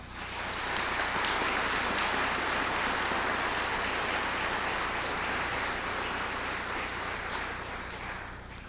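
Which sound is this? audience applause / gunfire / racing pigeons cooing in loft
audience applause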